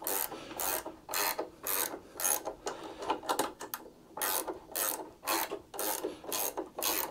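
A ratchet works a stud out of a Hayter 41 variable-drive lawn mower, giving a steady run of close, crisp clicking strokes in regular rhythm, each a short rasping burst, with no talking.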